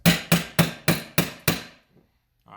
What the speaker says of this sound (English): start hitting again on the sacrificial muzzle device